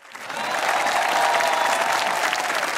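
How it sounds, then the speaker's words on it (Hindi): Audience clapping at a live comedy-style show, a dense, steady wash of many hands that swells in within the first half second and holds loud and even throughout, with no voices over it. "तो जिन जिन के साथ हो चुका है वो तालियां बजाएं।"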